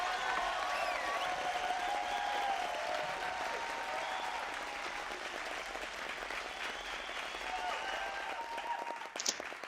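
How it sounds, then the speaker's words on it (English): At a 2017 education graduation ceremony, the audience gives a PhD graduate a sustained round of applause, a dense, even crowd clapping that carries on for several seconds with faint voices beneath and a brief sharp knock near the end. "Let's give Tom a round of applause"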